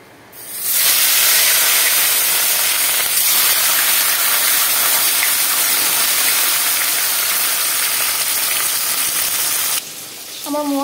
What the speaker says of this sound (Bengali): এবার এই 2 পিস আছে ভেজে নেবো